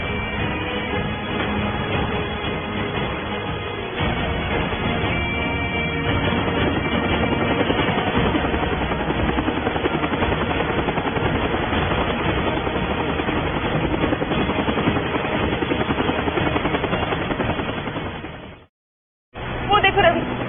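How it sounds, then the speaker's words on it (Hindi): A helicopter flying overhead, its continuous rotor chop and engine drone running steadily under people talking throughout, cutting off briefly near the end. "वो रहा हेलीकॉप्टर"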